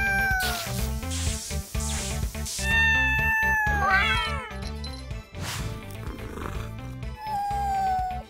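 A giant cat meows in an animated cartoon, with several loud, drawn-out, wavering meows and caterwauls over a pulsing music bed and busy effects.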